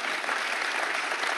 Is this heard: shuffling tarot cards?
no